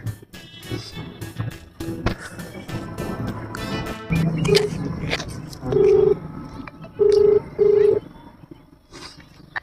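A mobile phone dials out, emitting a few short, loud keypad or dialing tones near the end, alongside background noise and scattered bursts of activity.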